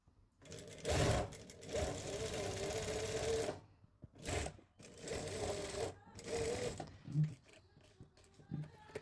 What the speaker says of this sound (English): I'm going to stitch the hem on top like this